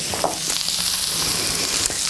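Vegetables frying in a pan for a Thai chicken noodle soup, a steady bright sizzle with a few soft stirring clicks, close and continuous, with no talking.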